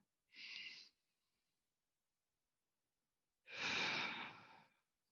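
Deep breathing during a winter solstice yoga session: two slow, soft breaths, one short and one longer, close and quiet with silence between them.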